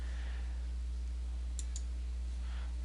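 A mouse click on a save button in a database program: two quick, faint, crisp clicks close together, set against a low steady hum in an otherwise quiet room.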